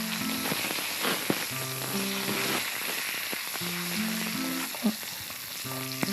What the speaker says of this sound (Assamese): গৰম তেলত দিছে তেজপাত, প্ৰথমতে দি লৈছে তেজপাতটো, তাৰপিছত তেজমৰি পাত